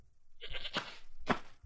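A cartoonish goat bleats in the Goat Petting Simulator video game, giving a drawn-out nasal cry followed by a second shorter bleat, close and fairly loud.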